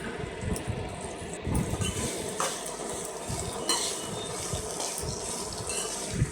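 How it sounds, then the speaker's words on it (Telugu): Onions, four or five green chillies, fenugreek seeds, seasoning seeds and curry leaves frying in oil in a kadai for an Andhra-style fenugreek pulusu, a steady close crackling sizzle with occasional stirring scrapes. "కళాయిలో ఆయిల్ పోసుకొని మెంతులు, పోపులు, కొంచెం కరివేపాకు వేసుకొని అందులో ఉల్లిపాయలు, ఒక 4-5 పచ్చిమిరపకాయలు వేసుకొని గోల్డెన్ బ్రౌన్ కలర్ వచ్చే వరకు ఫ్రై చేసుకోవాలండి"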